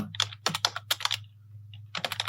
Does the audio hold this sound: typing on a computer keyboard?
yes